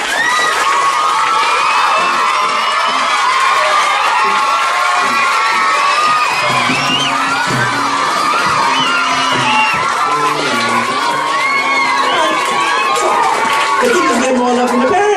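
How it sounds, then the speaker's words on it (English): A school audience, children among them, cheers, whoops and shouts loudly in a dense, continuous roar during a speech, with clapping mixed in and a voice calling out over the crowd. "Oh, I see some clapping already."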